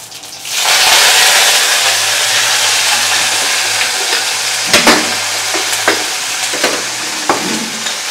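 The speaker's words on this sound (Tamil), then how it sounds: "இப்போ வந்து கோஸ் கூட்டு தாளிக்க போகிறோம்." Mustard seeds, cumin and curry leaves tempering in hot oil for a cabbage kootu, giving a loud, steady sizzle with intermittent crackles and pops from the pan, close and with no talking.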